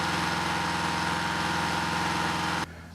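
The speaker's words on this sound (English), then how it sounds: "where you may have just saw the drill running" A core drilling rig runs at a mining exploration site in Mexico, its steady mechanical drone loud and constant with a droning harmonic hum before dropping off abruptly near the end.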